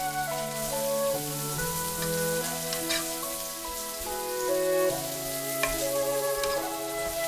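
Green beans sizzle and crackle steadily as they are dry-fried in a hot pan for Chinese cooking, with a continuous frying hiss beneath soft, steady tonal music.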